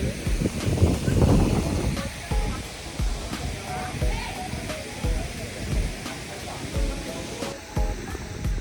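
Water pours down decorative water walls at a temple in Kuala Lumpur, a broad, continuous rushing wash that stays steady and fairly close, with people talking faintly in the background.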